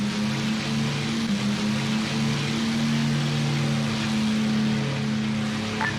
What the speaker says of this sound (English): You can hear that plane coming in now.